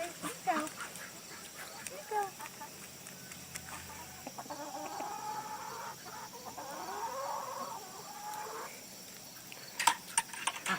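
Backyard poultry flock of ducks and chickens, faint clucking and quacking calls scattered across the clip, near and fairly quiet, under a person talking.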